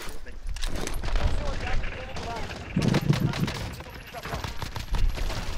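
Machine gun fire in the video game Call of Duty: Modern Warfare, bursts of rapid shots mixed with game noise while players talk over it.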